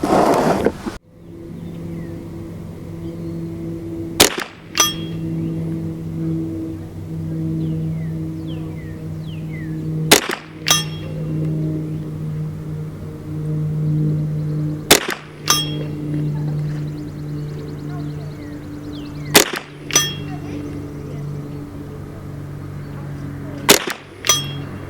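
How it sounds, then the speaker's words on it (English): Five .22LR rifle shots spaced several seconds apart, each a sharp crack with a ringing clang from a distant steel plate, over a low steady hum of background noise. "I'm going to go ahead and shoot some shots on the plate for you"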